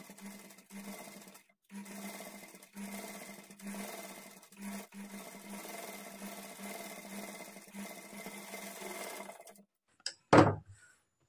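A sewing machine stitches piping on a blouse in several faint runs broken by short pauses, followed by a sharp clunk at the end.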